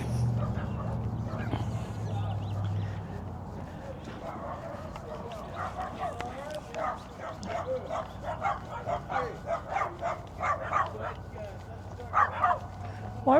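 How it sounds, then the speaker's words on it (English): Several dogs bark and yip repeatedly in bursts near a parked spot by old buildings in Arizona, the barking getting busier and louder partway through, with a person talking over the commotion. "the dogs are barking and carrying on"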